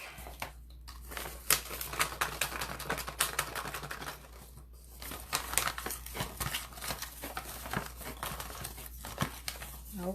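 Paper raffle tickets are snipped apart with scissors at a craft table, giving a sequence of close, crisp cuts and paper crinkles at an uneven rhythm, with a voice murmuring faintly in the background.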